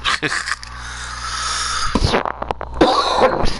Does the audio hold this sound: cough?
yes